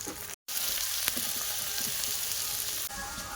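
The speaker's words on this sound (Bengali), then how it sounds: "আলুগুলো আগে ভেজে নিচ্ছি" Potato pieces frying in oil with salt and turmeric, a steady loud sizzle throughout with a brief dropout near the start and faint stirring clicks.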